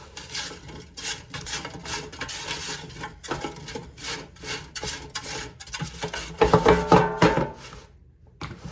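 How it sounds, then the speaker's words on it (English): Seasoned potatoes with black pepper being stirred in a bowl before going into an air fryer, a run of scraping, rubbing strokes in uneven rhythm, close and fairly loud, ending with a short louder burst. "All right, stir it up."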